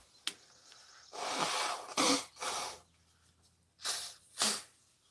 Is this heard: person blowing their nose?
yes